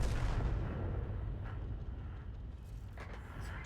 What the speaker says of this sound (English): she is firing into the side of some of the enemy tanks.